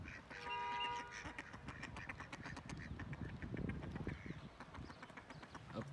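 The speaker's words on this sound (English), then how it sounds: "And here comes the duck." Ducks on a stream quack repeatedly nearby in quick, uneven bursts, with a faint outdoor background.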